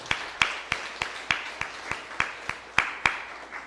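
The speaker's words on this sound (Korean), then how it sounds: "오늘 어르신들에게 우리 존경과 감사의 마음을 담아서 우리 박수 한번 해드리겠습니다." A church congregation claps for its elders in a slow, even rhythm, about three sharp claps per second in unison, moderately loud in a reverberant room.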